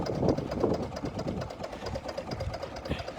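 A Dexheimer 222 vineyard tractor idles with a low, steady, slightly uneven engine rumble that shakes the hood. It is heard up close and quietly, with no talk over it.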